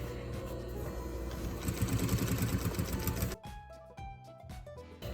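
Sewing machine running steadily while edge stitching along the open placket of a DIY underbust corset for a busk, a continuous close mechanical whir that stops abruptly partway, followed by quieter handling clicks.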